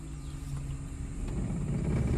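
A car juddering in first gear while the brake is half held, a low uneven engine shudder rising slightly in loudness over a couple of seconds, heard from inside the cabin.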